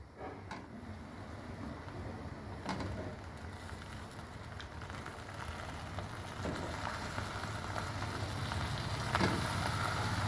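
Thin bitter gourd slices, soaked in buttermilk, sauté in a pan with a continuous soft frying sizzle and crackle that builds slightly louder over time, with a few faint clicks and no voices.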